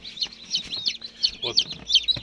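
Newly hatched chicks in an incubator cheep in rapid, high, overlapping peeps, close and fairly loud, with a few brief lower sounds mixed in.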